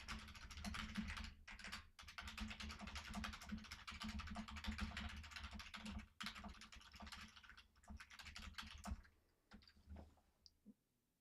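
Computer keyboard typing, rapid dense keystrokes clattering continuously up close, thinning into a few scattered taps at the end.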